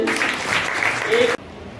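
Applause from a school audience at a World Water Day assembly, a steady wash of clapping for a ninth-grade student about to give an English speech, cutting off abruptly near the end.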